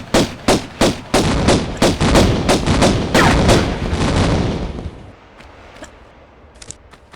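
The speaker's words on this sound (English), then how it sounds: "if you just keep back flicking, usually you can just blast them" Gunfire in a Tomb Raider 1 custom level video game blasts away at enemies: a rapid, loud series of regular shots that merges into a dense roar, then fades into quieter, scattered pops.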